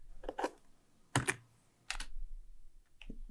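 Keys on a computer keyboard are pressed in a few separate sharp clicks, close and distinct, with quiet gaps between them and no talking.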